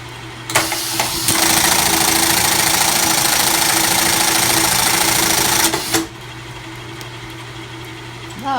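A Reece 101 keyhole buttonhole sewing machine starts up and runs at a steady, loud mechanical rattle for about five seconds, then stops abruptly, leaving a low background hum.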